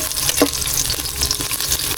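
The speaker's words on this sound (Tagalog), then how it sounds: "Igigisa na natin, unahin natin ang luya." Ginger is sautéed in a hot pan, giving a dense, continuous close-up sizzle with a few soft stirring scrapes, loud and without any talking.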